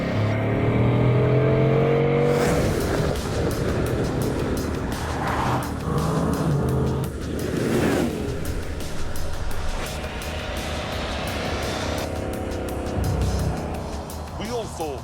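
A Bugatti Chiron with an 8-litre, 16-cylinder engine drives on a motorway. Its steady engine roar and road noise continue throughout, alongside a voice that is talking.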